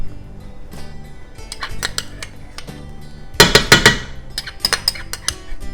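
A spoon scrapes and clinks against a metal pot while tomato paste goes into a seafood stew, with irregular close metallic knocks and a burst of sharp clatters near the middle.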